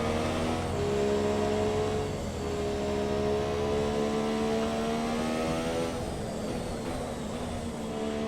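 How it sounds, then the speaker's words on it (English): A safety car engine in F1 2017 at the Canada race: a steady drone with rising and falling harmonic whine, shifting pitch as it runs continuously without any talking. "That's a real engine up there."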